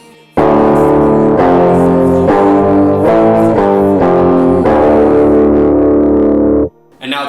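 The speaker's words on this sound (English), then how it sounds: "the completely dry track with no post-processing, no amp simulation, no effects whatsoever sounds like this." Dry, unprocessed electric guitar recorded direct with no amp simulation or effects, playing a series of clean strummed chords in a steady rhythm, close and loud, ending with a short pause before another chord.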